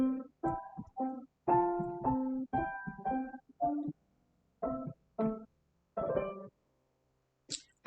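A musical trill played softer than the melodic line around it: short, pitched notes separated by brief pauses, fairly faint and close, with no talking.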